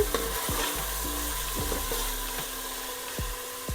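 Ginger, garlic and chili paste frying in a pan for village-style mutton kheema with avarekalu, giving a constant close sizzle broken by repeated scraping strokes of a spoon stirring.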